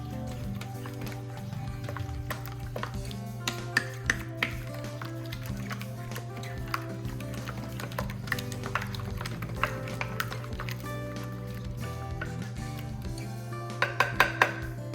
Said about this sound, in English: You want to take this nice stiff spoon and mix this all up.